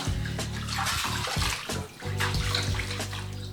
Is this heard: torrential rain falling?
no